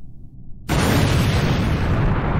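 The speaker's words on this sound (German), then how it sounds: "Hätte nicht gedacht, dass sie direkt explodieren." A sudden loud explosion of cars in a Garten of BanBan animation bursts in after a brief low rumble, then a sustained roaring blast of noise that slowly fades.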